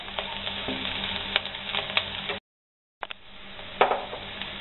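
Browned onion and chopped garlic sizzle and fry in a pan, with a steady crackling hiss, occasional scraping stirs and small clinks, broken by a brief cut of silence.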